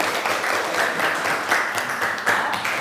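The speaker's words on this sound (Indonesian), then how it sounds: "Kita berikan aplaus dulu untuk kelompok 4." A classroom group claps for the fourth team after its presentation, a dense, continuous patter of many hands at moderate volume with slight swells and no talking.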